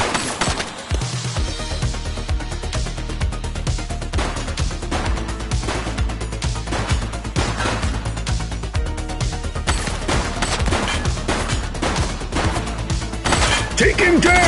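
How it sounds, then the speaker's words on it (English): A suspect firing a gun in The Precinct police game, rapid sharp cracks repeating densely over a loud, busy mix of action sounds and voices throughout. "He's shooting!"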